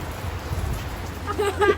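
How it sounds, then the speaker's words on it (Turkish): Loud rain pours down in a continuous broadband hiss, with a brief voice rising over it near the end. "Yağmur çok gürültü çıkartıyor çünkü."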